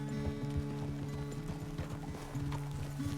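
Horse hooves clip-clop in a steady, close rhythm while a horse is ridden in Red Dead Redemption 2, over a low humming tonal backdrop.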